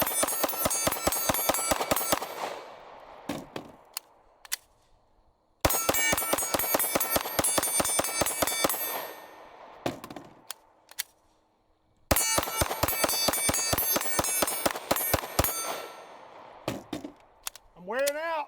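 Glock Gen 5 pistol in 9mm fired rapidly in three long rapid-fire strings separated by short pauses, each string a dense train of loud sharp shots with ringing echoes.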